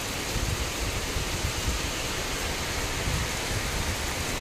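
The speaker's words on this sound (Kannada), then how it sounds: "ನೋಡಿ ಎಷ್ಟು ಜೋರಾಗಿ ಮಳೆ ಬರ್ತಾ ಇದೆ ನೋಡಿ." Heavy rain pouring down around a house, a dense continuous roar of water with no break, loud and close, with no voices.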